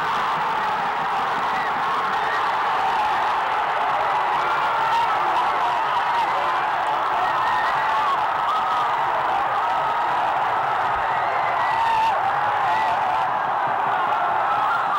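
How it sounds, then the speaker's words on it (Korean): A dense, roaring football stadium crowd cheers a goal continuously at a steady high level, voices blending into one loud wash with occasional whoops rising above it. "관중석은 순식간에 열광의 도가니가 되고 말았다"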